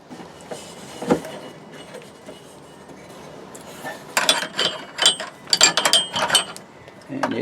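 An Allen key and a wrench work a threaded insert into a bed side, producing scattered metallic clicks and clinks that grow into a denser cluster of ratcheting taps toward the end, with faint background noise.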